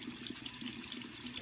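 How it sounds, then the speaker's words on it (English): Hot tap water runs steadily over a makeup brush being washed with soap, a faint continuous splashing hiss without any talk. "I take the brush under some hot water with the soap"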